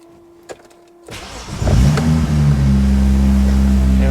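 A BMW N54 engine in an E30 is cranked and catches after about a second, then flares up to a loud, steady idle with a deep rumble. It is close by, with no talking.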